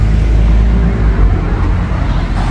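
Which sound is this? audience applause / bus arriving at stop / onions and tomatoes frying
bus arriving at stop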